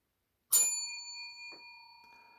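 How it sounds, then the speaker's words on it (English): Single bright bell strike, close and clear, with a long ringing decay and a faint second touch about a second later, no voices. "Yep, somebody is definitely on the bell tonight."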